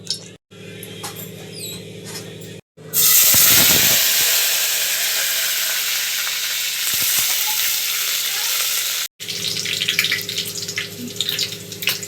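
Cardamom pods hit hot oil for a chilli dal khichdi and burst into a loud, steady sizzle after a quieter start. Brief stirring clatters sit inside the hiss, which drops out abruptly near the end.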